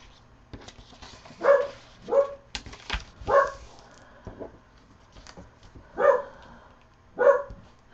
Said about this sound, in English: Can you guys hear him barking?